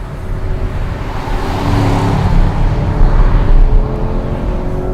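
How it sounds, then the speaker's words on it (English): A Chevrolet Camaro SS V8 revs hard while driving, loud and close, its deep engine note rising and falling in strong surges. "With an engine note like this, you really want to wrestle it around."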